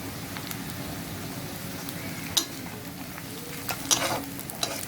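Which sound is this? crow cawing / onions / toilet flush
onions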